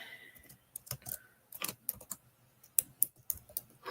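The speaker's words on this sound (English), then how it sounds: "I really should not be typing." Irregular clicks of fingers typing on a computer keyboard, close and fairly quiet, in uneven bursts of keystrokes with short pauses.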